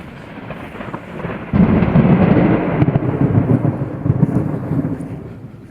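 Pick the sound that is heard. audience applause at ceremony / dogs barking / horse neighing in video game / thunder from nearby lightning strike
thunder from nearby lightning strike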